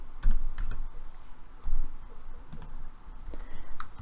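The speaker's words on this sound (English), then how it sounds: "So I'll type Education Week" Rapid typing on a computer keyboard, a quick run of close, light key clicks with small bursts of faster taps, entering a search in a social media dashboard.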